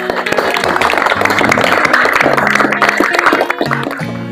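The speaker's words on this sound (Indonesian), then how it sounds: "Tepuk tangan untuk adik-adik semua" Santri students at an Islamic boarding school training session clap their hands together in a lively burst of rhythmic applause that continues throughout, with a scattered clatter of voices and tones mixed underneath.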